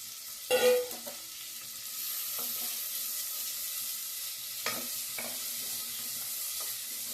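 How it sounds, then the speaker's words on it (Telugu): Dried fish frying in hot oil gives a soft, steady sizzle throughout, broken by a few brief clinks and scrapes from stirring. "అందుకని నూనెలో వేయించి తీస్తాను పక్కకి."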